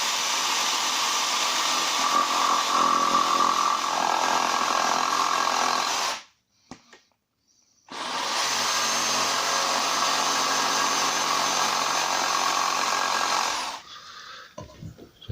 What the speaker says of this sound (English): I'm going to cut this from behind with jigsaw